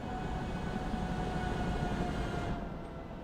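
An armored train in the video game Broken Arrow rumbles along with a steady, heavy low drone and a faint metallic hum, holding constant before easing slightly at the end.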